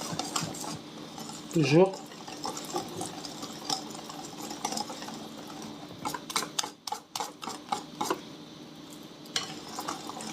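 Basboussa batter being stirred in a bowl, with repeated scraping and tapping strokes that speed up into a quick rhythmic clatter midway, while a voice speaks briefly.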